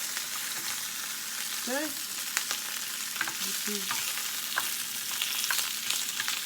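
Beef for a Moroccan tajine sears and caramelizes in a pan, a steady close sizzle with occasional utensil taps, under a brief spoken word and a short vocal murmur.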